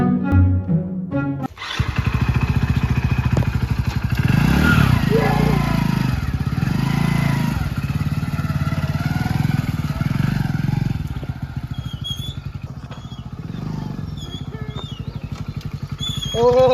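A motorcycle engine runs steadily and loudly close by, a continuous idling rumble with clattering, while people talk over it.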